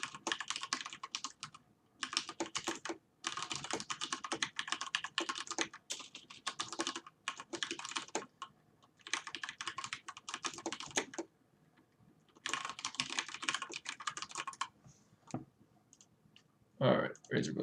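Clicky typing on a computer keyboard while entering an item description in a C# .NET inventory manager program, coming in steady bursts broken by short pauses, with someone talking faintly at times.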